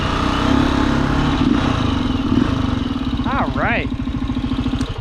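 A Gryffin 450 motorcycle idles close by on a trail ride in Kentucky, a loud steady engine chug with someone speaking briefly over it.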